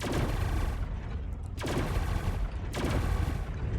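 Snapper weapons on a Basher ship in Star Citizen fire in loud, dense, sustained volleys, with two sharp fresh bursts breaking through the continuous barrage.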